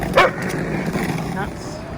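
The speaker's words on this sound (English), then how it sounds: "barking at skaters" A single sharp dog bark rings out near the start, with street noise and talking continuing underneath.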